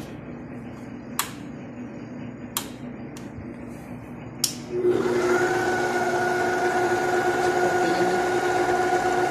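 Electric mixer kneading donut dough made without potatoes, starting partway through as a steady whirring motor hum that continues to the end, preceded by a few sharp clicks and knocks.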